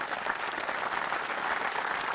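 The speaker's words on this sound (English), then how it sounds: "Give everyone a round of applause." A round of applause rises in a steady, dense wash of many hands clapping, fairly distant and moderate in level, with no voices on top.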